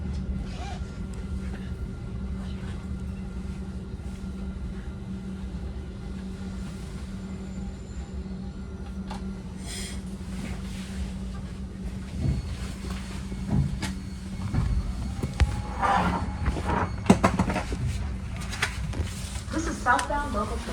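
A southbound Caltrain local commuter train pulls into a station, its steady low rumble and rail noise continuing throughout, with rising clanks and squeals toward the end; passengers talk faintly in the background.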